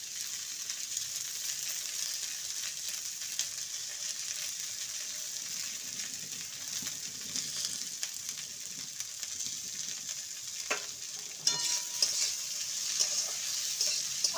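Bitter gourd, pumpkin and potato curry sizzles softly in a pan while being stirred, a faint continuous frying hiss with occasional scraping clicks toward the end.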